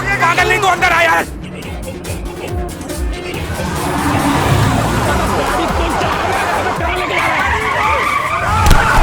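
Tires screech loudly as a car skids during a film chase scene, with a sustained squeal over engine roar and shouting voices in the background.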